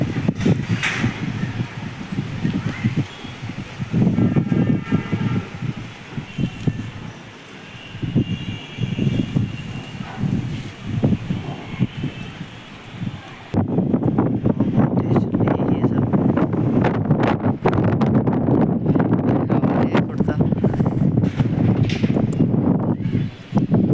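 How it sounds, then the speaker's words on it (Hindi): Strong gusty wind roars across the microphone and through a swaying tree, a loud, continuous buffeting rush with rustling that swells and surges throughout. "पेड़ से अंदाज़ा लगा सकते हैं आप कितनी तेज़ हवा चल रही है।"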